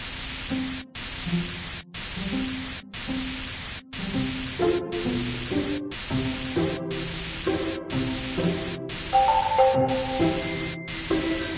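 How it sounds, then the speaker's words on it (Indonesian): Spray paint hisses onto a dog house in a Baby Bus children's game, a string of short regular bursts of static-like spray over bright, cheerful background music. "Semprotkan cat ke rumah anjing dengan warna yang cantik."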